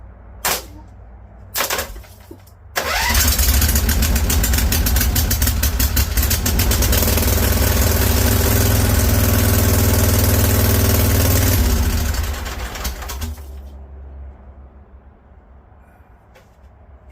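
A Briggs & Stratton Vanguard V-twin with straight pipe exhaust gives a few short cranking bursts, then fires up into a loud, raw, rapid idle for about ten seconds before cutting out.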